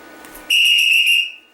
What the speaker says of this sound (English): the referee would blow his or her whistle